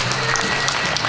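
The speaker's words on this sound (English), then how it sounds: "let's have a big round of applause for our judges" Dense, steady audience applause for the judges at a pin-up pageant at North Star Casino in Bowler, Wisconsin, a continuous roomful of clapping heard close and without pause.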